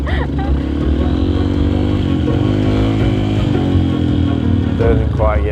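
A dirt bike engine drones loud and close, revving steadily without climbing as a gear change fails to engage, a constant throaty roar with a faint voice briefly under it.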